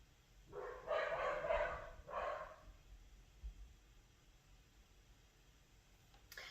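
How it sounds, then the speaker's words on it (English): Several dogs bark indoors, two quick bursts of barking fairly loud and close, followed by quiet room noise. "Don't mind my dogs."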